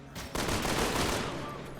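Rapid pistol gunfire from the video game Resident Evil 6 cracks out in a quick burst of several shots, loud and close, with no talk over it.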